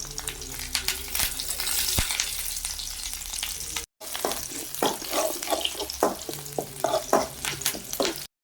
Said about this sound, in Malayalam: ചെറിയുള്ളി കൂടി ഇട്ട് നമുക്കൊന്ന് വറുത്തെടുക്കാം